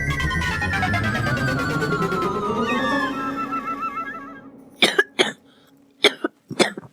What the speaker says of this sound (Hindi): तुझे सुबह से इतनी खांसी आ रही है